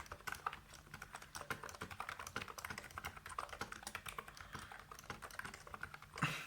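Rapid typing on a computer keyboard, a starter model suited to gaming, with dense, steady key clacks running throughout and a slightly louder burst at the end; no voices.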